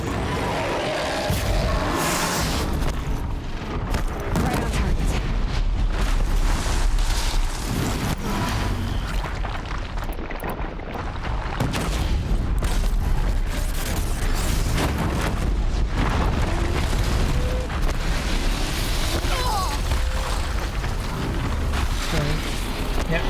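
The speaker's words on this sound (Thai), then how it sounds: "เราใช้ระเบิดแงะได้" Loud, continuous bomb explosions and rumbling blasts in Horizon Zero Dawn during a Fireclaw hunt, a dense, unbroken roar filling the whole stretch.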